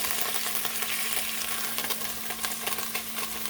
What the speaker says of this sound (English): So it's not taking too long to sear.